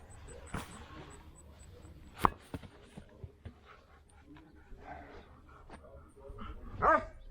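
A dog whimpers softly and lets out a few short barks and yips, fairly close, with quiet pauses between the sounds.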